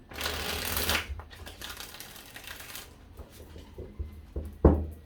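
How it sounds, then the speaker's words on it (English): Tarot cards being shuffled close up, a rapid papery riffle followed by softer shuffling and a few taps and clicks, no talking. "5 shuffles for you, Libra. This is 1."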